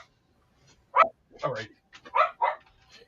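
A dog barking on a television set, several short sharp barks in an irregular series with gaps between them, moderately loud. A person speaks briefly in the room.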